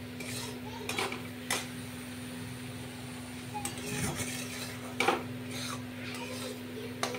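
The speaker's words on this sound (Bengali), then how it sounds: "তো মশলাটা ভালো করে কষানো হোক" Spice paste is fried and stirred in a pan: faint, intermittent metallic clinks and scrapes of a spoon over a low, steady hum and light sizzle, heard quietly up close.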